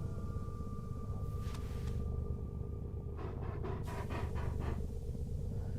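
A dog panting right up against the microphone, steady close breathing over a constant low rumble and hum while a video game plays in the background.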